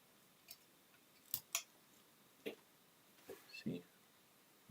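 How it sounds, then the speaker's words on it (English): A carving knife slicing into wood while a gnome figure is whittled, several soft, scattered cuts and snicks at close range, quiet and separated by pauses. "I think I'll make another cut here, angled down"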